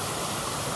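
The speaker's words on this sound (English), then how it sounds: "mountain streams rushing over the rocks" A mountain stream rushes over rocks in a steady, close, broadband roar of water with no other sounds.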